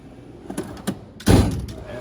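A drawer on a Snap-on toolbox slides open in a shop with a short rolling scrape that ends in a solid metallic clunk, preceded by lighter rattles and heard close up.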